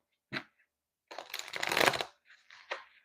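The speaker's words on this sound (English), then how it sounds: "One more shuffle." A deck of tarot cards is shuffled nearby, a short riffle followed by a longer rustling shuffle and a few soft card slaps, quiet and alone with no speech.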